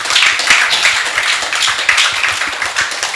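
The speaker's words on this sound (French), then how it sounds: "Sous vos applaudissements," Audience applause after a speech at a conference panel on work-life balance, a dense, loud burst of many hands clapping steadily throughout with no voices over it.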